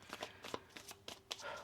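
Tarot cards being shuffled by hand during a reading: a quiet, close run of crisp riffling and flicking bursts in uneven quick succession, with no voice.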